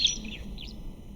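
Short chirping bird calls played through a small phone speaker, a few quick high tweets in a brief burst, fairly close and clear with no talk over them.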